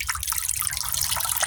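Engine oil from a Chevy Tahoe 5.3L oil filter drains in a steady close trickle with dense splattering drips, without a break.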